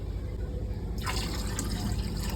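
Water pouring into a flowerhorn fish aquarium tank, a continuous splashing, gurgling fill that grows brighter and louder partway through, close and steady without speech.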